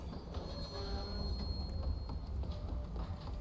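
A train in a Wild West video game rumbles along at moderate volume, a low steady roll with faint rhythmic clatter from the wheels and a thin metallic tone above.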